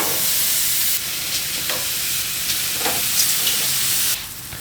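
Flanken style short ribs sizzling loudly on a grill at a Monument Grills event, a steady close frying hiss with a few brief scraping clicks, dropping off abruptly near the end.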